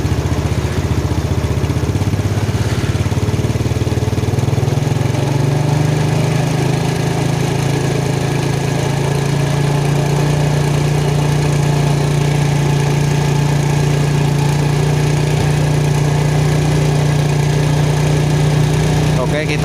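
A Yamaha Jupiter Z motorcycle engine idles steadily and loudly during carburetor servicing, a constant low drone with a slight shift in pitch partway through.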